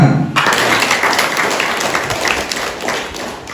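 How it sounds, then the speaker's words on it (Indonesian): A campaign rally crowd in Tebo applauding, a dense burst of clapping that starts abruptly and carries on steadily, close and loud, with voices mixed in. "Tepuk tangan."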